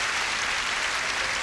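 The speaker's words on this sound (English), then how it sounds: "Let's give the Lord Jesus a round of applause" A studio audience on a religious faith show breaks into applause, producing a brief, even wash of clapping with no voices over it.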